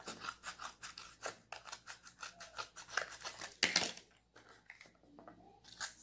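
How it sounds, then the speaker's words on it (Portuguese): Scissors snip repeatedly through a paper-covered toilet paper roll, close and crisp, in a quick run of cuts followed by a single sharper crunch and quieter handling. "Nós vamos pegar a tesoura, vamos cortar."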